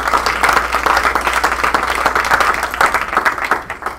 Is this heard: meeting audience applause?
yes